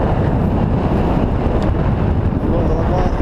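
Loud, constant mountain wind near Passo della Bocchetta, Italy, roars and buffets across the microphone, a dense rushing blast that never lets up.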